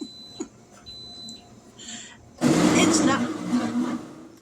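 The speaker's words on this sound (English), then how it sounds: "That would be my hot and cold blender cleaning it." A hot and cold blender running its cleaning cycle bursts into a loud, steady whirring roar partway through and keeps churning to the end, after a person speaks briefly over quiet room sound.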